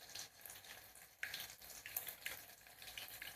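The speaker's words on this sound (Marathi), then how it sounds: "लसूण आहे तो चांगला लालसर अगदी भाजून घ्यायचा" Crushed garlic fries in oil with a soft continuous sizzle and light crackle, faint and close, with small bursts as it is stirred.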